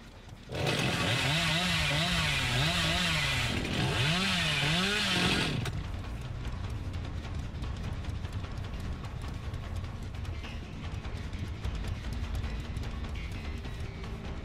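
In the horror game Dead by Daylight, a chainsaw revs with a loud, wavering buzz for about five seconds, then cuts to a lower, noisier rumble of game sounds that continues to the end.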